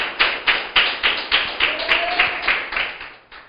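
Church congregation clapping in praise of the Lord, about a dozen loud unison claps in a brisk even rhythm, close and clear with nothing else over them.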